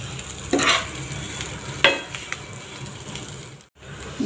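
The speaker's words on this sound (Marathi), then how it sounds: "गॅसची फ्लेम मीडियमच ठेवायची, म्हणजे मीडियम फ्लेवर मस्त आपला बटाटा हा परतवून निघेल" Potato pieces sautéing in ghee in a pan over a medium gas flame, a steady close sizzle broken by a couple of scraping stirs of the spatula, with no talk.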